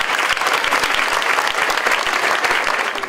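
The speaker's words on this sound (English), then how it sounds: "Give yourselves a round of applause, please." A banquet audience at a college volleyball national tournament applauds with dense, steady clapping throughout, filling the room at close range.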